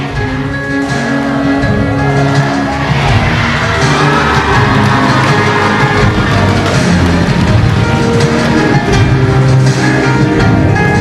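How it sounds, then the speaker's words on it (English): At the 29th SEA Games 2017 victory ceremony for men's optional nanquan wushu, a large crowd cheers loudly and continuously for eleven seconds, with shouts and whoops in a dense, sustained roar. "Cheering loud and strong"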